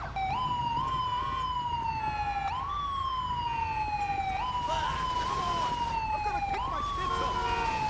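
A video game ambulance in GTA V with the LSPDFR mod sounds its siren: loud, repeating rising-and-falling wails that cycle several times over engine and road noise.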